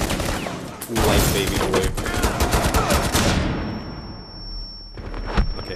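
Rapid pistol shots in Rainbow Six Siege ring out in a dense, loud volley for about three seconds, then fade into a high ringing tinnitus tone, with one more shot near the end; a voice speaks briefly.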